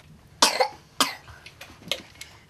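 A five-year-old child with a cold and high fever coughs in a few sharp bursts, two strong hacking coughs followed by softer, weaker ones, close by in a quiet room at night.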